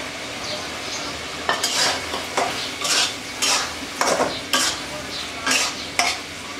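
Thin potato slices fry in a spice paste with prawns and greens nearby, under a low sizzle broken by a series of rhythmic stirring scrapes and spatula clinks against the pan, close and alone.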